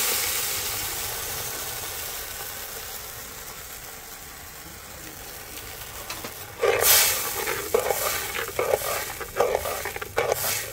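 A ground mixture drops into hot oil in a pan. After several seconds of quiet kitchen room tone, a loud sudden sizzle erupts, then fades and flares again with bursts of frying and stirring.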